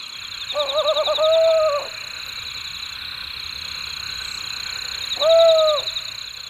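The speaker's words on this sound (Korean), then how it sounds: "사냥의 성공을 알리는 수컷의 울음소리." A male owl calls after a successful hunt, giving two separate, loud, hooting calls that waver slightly in pitch, set against a steady high insect-like drone in the background.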